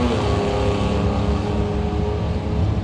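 An AMC Pacer drag race car at a drag strip holds a steady, loud engine drone with dense low harmonics that eases slightly as the driver comes off the throttle, with no voices.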